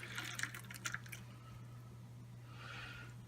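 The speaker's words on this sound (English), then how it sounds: "I'm going to pour over roughly a cup of water to fill the bottom of the pan." Water is poured into a pan holding spaghetti squash, giving a few soft squishy splashes and drips and then a quieter trickling fill. The sound is faint and close over a steady low hum, with no talking.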